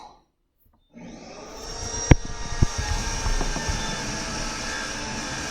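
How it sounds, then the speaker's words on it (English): After a moment of silence, a power saw starts up and runs steadily nearby during house renovation work, with a few sharp knocks and clatters over its whir. "Sorry about the saw noise."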